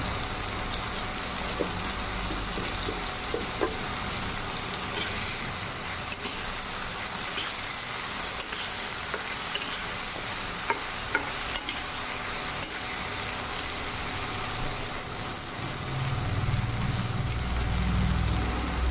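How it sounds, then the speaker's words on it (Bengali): Raw green plantain with salt and turmeric frying in a pan, a steady close hissing sizzle throughout with occasional light stirring clicks and a low rumble near the end. "ঢাকা দিয়ে লাল করে ভেজে নেব"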